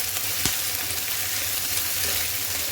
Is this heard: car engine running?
no